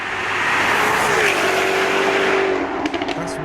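A Jaguar XKR-S engine revs hard and loud in a sustained roar with shifting pitch, then backs off with a few rough bursts at the end.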